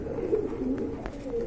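Racing pigeons at a market stall cooing close by in low, rolling murmurs, a steady continuous burble with no one speaking over it.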